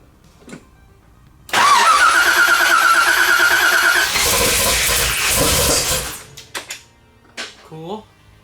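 A G48 engine, fitted with a blower after a head swap and compression fix, cranks and fires up with a loud roar, runs hard for several seconds and then cuts out, followed by a few brief noises.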